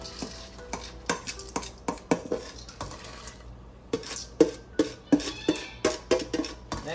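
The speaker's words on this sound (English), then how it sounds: "Throw the dal in" Rinsed dal tipped into a cooking pot, with a run of sharp, close clattering knocks and rattles of grains and metal, irregular and dense, with brief quieter gaps between bursts.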